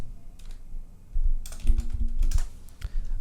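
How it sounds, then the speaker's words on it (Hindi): Computer keyboard keys pressed for a Ctrl D shortcut while working in motion-graphics software: a few sharp, close clicks and taps over a low background hum, with no talking. "will just hit Ctrl D in the keyboard"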